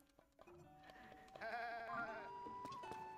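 Goat bleating in the video game Zelda: Tears of the Kingdom, a few wavering bleats over steady game music and ambience, fairly close and moderately loud.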